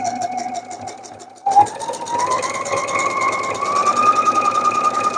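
A serger sewing machine stitches dress fabric, starting abruptly into a fast, steady mechanical whir with a rising pitch that keeps running close by.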